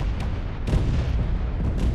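Ship turrets in Space Engineers keep firing on a lightly armored ship, a dense rumbling barrage of booms with a few sharper blasts standing out, loud and continuous for the whole stretch.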